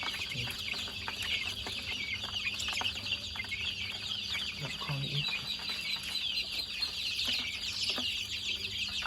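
Baby chicks cheep steadily in a dense high-pitched chorus while being fed on a farm, with occasional clucks and someone speaking briefly over them.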